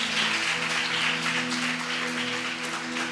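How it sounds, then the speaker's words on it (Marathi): A church congregation claps together during a worship service, producing a dense, even wash of applause that holds steady for about three seconds with no speech over it. "एक प्रभूसाठी टाळी वाजूया."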